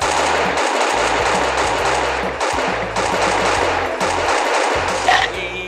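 Rapid bursts of automatic gunfire in the Free Fire battle royale game pound steadily for several seconds, loud and close, with a brief louder shot near the end over game sounds.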